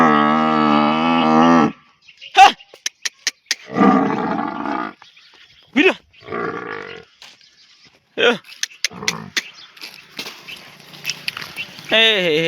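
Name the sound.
buffaloes lowing as they enter the pen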